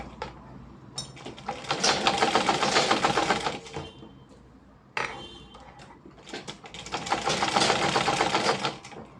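Sewing machine stitching around the edges of a blouse, running in two long bursts of rapid mechanical whirring separated by a brief pause, close and fairly loud with no talking.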